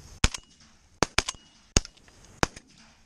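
Shotgun blasts ring out during an outdoor pigeon hunt in Minnesota: four sharp, loud reports about a second apart, several followed by a quick echo or second shot, with no voices.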